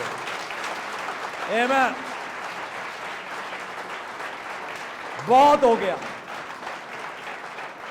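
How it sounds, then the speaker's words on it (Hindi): A church congregation claps loudly and continuously throughout a Hindi worship service, the dense applause running under a preacher's voice, which rises in two short shouted bursts. "जोर से ताली बजाओ अगर विश्वास करते हो।"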